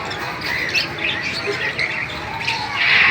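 A Java sparrow calls in a pet park aviary, giving repeated short chirps and squawks close by over a steady background hiss.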